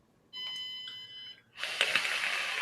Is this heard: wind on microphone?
no